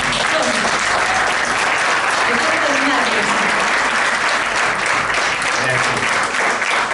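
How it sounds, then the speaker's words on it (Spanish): A room full of listeners gives sustained, loud applause to greet the author at a book presentation in Zapala, the dense clapping steady from start to end with a low murmur of voices underneath. "lo queremos recibir con un muy, muy fuerte aplauso"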